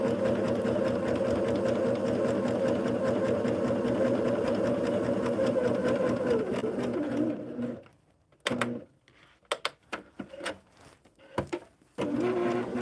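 A sewing machine runs steadily while stitching quilt pieces, a loud rapid mechanical whir with rhythmic needle chatter. It stops at about eight seconds, leaving scattered light handling taps and clicks.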